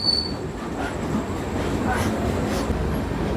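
Darjeeling Mail passenger train rolling through Bardhaman Junction at night, a steady, continuous rumble of carriages and wheels on rails with a faint high squeal at the start, close and unbroken throughout.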